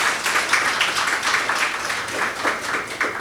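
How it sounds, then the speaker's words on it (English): Sustained applause from a meeting audience, many hands clapping in a dense, steady patter throughout with small surges, fairly close and moderately loud. "Let's give her a round of applause"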